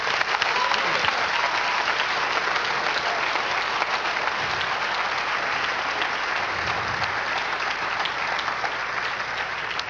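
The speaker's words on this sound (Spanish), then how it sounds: "Denle un aplauso al Señor." A church congregation gives sustained applause during a worship service, a dense, steady wash of many hands clapping at an even level for about ten seconds.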